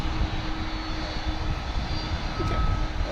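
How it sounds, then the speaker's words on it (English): McDonnell Douglas MD-11 jet engines whining at an airport runway, a loud steady roar with a high tonal whine running through it, continuous across the whole stretch. "what you hear is the whine of the MD-11 engines"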